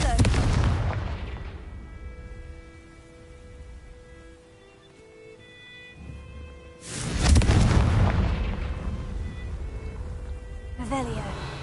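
Blasting Confringo spell explosions in Hogwarts Legacy on PS5 burst loud at the start and again midway, broad booming blasts with ringing tonal tails between them.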